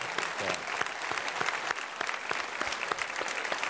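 Congregation applause fills a church during a sign-language Sunday service, a dense, steady patter of many hands clapping at moderate loudness throughout, with no voices standing out.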